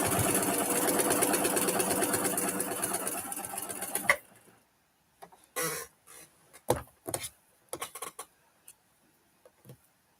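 Sewing machine stitching a quilt block runs in a steady rapid whir for about four seconds, then stops, followed by scattered short clicks and brief bursts of handling noise.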